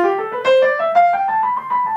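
A piano plays a rising scale, one note after another, with slightly uneven accents where the thumb digs in. Some notes land heavier than others, and no one speaks.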